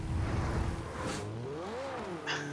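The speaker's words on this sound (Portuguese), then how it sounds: "Olha o motor." Car engine revving in the racing video game Forza Horizon, a moderately quiet engine note that rises and falls in pitch as it accelerates, with no talking.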